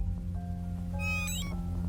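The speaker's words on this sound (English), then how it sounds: "That appears to be a cat." A cat in a haunted-style PS1 video game gives a couple of clear, high, wavering meows over a steady low game drone, close and fairly loud with no talking.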